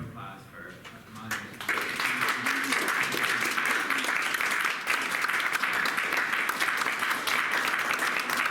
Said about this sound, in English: let's all have a big round of applause for Molly